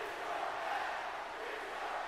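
A wrestling arena crowd in WWE 2K24 keeps up a steady, dense roar of cheering and chanting throughout, even and sustained with no pauses.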